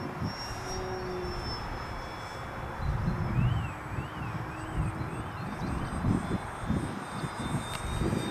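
An FMS Uperez V3 radio-controlled model airplane flies on a windy day, its small electric motor a thin whine weaving up and down at a distance over steady wind rumble on the microphone.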